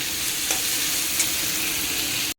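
Potatoes fry in a pan with a steady, close sizzle that runs unbroken for about two seconds before cutting off abruptly, with one or two faint stirring scrapes.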